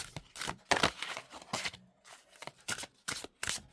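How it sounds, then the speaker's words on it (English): A deck of oracle cards is shuffled by hand in a quiet room, with a series of close, crisp riffling bursts, about eight quick flurries of smooth card noise separated by brief pauses. "Let's give these cards a shuffle."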